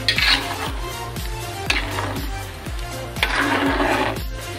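A spoon scrapes and swirls through coconut milk sauce for Acehnese egg curry in a pot, rhythmic stirring strokes over a steady low simmering rumble, close by.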